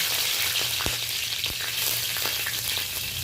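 Five-spice tempering and slit green chili sizzle in hot oil, a dense, close frying hiss running throughout, broken by a few faint utensil taps and scrapes; no one speaks.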